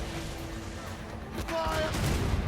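Cannon fire from sailing ships in Assassin's Creed Rogue, a heavy booming burst that rises late in the moment over a continuous low rumble, with shouted voices around it.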